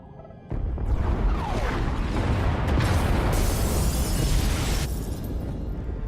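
A massive explosion tearing through the pod bays in SWTOR, bursting in suddenly, then a sustained, loud roar of blasts and rumbling debris that gradually thins out.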